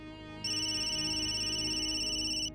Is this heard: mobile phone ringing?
yes